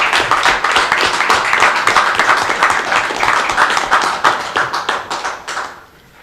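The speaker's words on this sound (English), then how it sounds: "I'd like to give you a round of applause for saying that correctly." A round of applause fills a city hall meeting room in Lovington, New Mexico, as a crowd of hands claps steadily and loudly before the applause thins out and stops near the end.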